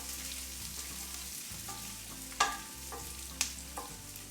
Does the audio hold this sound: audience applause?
no